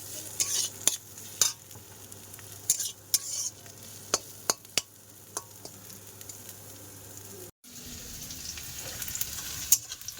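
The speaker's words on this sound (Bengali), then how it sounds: "অল্প তেলের মধ্যে উচ্ছেটা একটু ধীরে ধীরে ধীরে ধীরে ভেজে নিলাম।" Bitter gourd frying slowly in a little oil sizzles softly and steadily, broken by frequent sharp scrapes and taps of a spatula stirring in the pan. A short dropout comes late.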